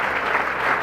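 An audience claps loudly and steadily, a dense wash of applause that fills the whole short moment without any break.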